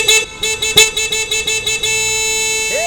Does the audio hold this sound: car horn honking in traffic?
yes